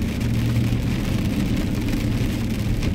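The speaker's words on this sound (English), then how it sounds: "but it's not raining hard, and it feels good" Light, warm rain falls steadily in a soft, continuous hiss of drops on surfaces, with a low engine rumble underneath and no one speaking.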